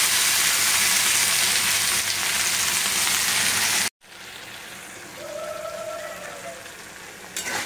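Nigella seeds, fenugreek and dried red chillies crackle and sizzle in hot oil for a tempering. A dense steady frying hiss breaks off briefly midway, then returns as a softer, thinner sizzle.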